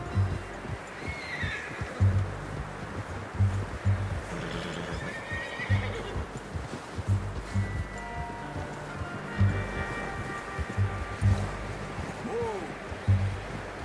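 The horse Taima whinnies and neighs in Red Dead Redemption 2, with hooves clopping in repeated bursts over outdoor ambience, loud and close.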